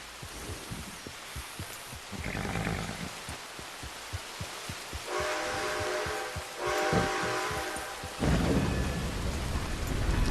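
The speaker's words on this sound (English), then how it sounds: "as it starts to pour rain." Steady rain pours down in the video game Red Dead Redemption 2, with low rumbling thunder building underneath, heavy and continuous, no voices present.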